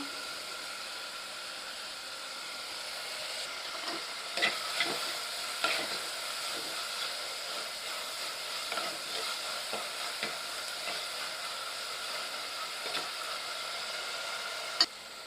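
Onion-tomato masala with salt sautés in a pan for a prawn-head curry, giving a soft, steady sizzle with light stirring scrapes and a few sharper clicks of a spoon against the pan.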